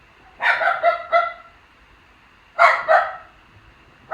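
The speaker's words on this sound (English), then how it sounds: "Sorry about my dog." A pet dog barks indoors during a home gaming session: a quick cluster of about four sharp barks, a pause, then two more, fairly loud and close, with no talking.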